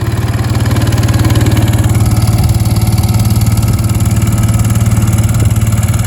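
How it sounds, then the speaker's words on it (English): A motorbike engine pulls a weighted pallet across a food plot, giving a steady, close, loud pulsing drone with an even rhythmic chug and no talking. "many trips up and back with the bike and the pallet and the weight"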